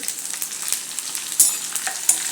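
Sesame seeds, curry leaves and finely chopped green chili sizzle in hot oil in a pan, a steady crackling fry with sharp spits and pops, close and loud with no talking.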